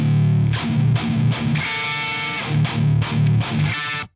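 Heavily distorted electric guitar played through a 212 cabinet loaded with V30 speakers. Loud palm-muted chugs alternate with sustained ringing chords in a rhythmic riff, up close with no talking.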